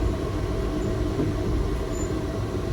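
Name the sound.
Manyosen Doraemon tram running through a residential area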